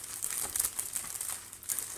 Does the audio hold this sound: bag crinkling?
yes